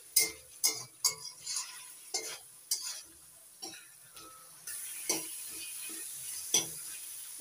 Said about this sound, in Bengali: এবার দিয়ে দিচ্ছি ভেজে রাখা আলু। একটু নাড়িয়ে চাড়িয়ে